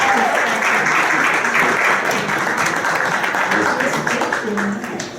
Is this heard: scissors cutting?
no